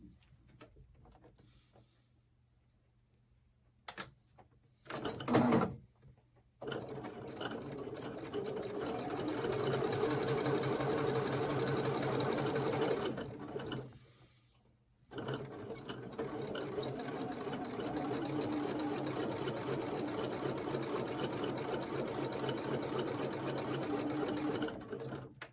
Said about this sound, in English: we're going to sew a scant 1/4 inch seam